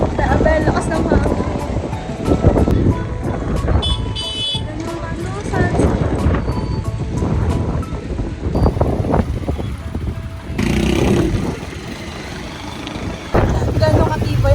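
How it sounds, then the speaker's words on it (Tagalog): Strong wind gusting outdoors on a Boracay trip, roaring and buffeting the microphone in a loud, uneven rush, with voices talking over it. "lakas ng hangin"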